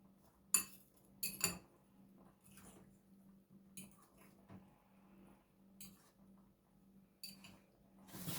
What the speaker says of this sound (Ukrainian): Це все перемішаємо.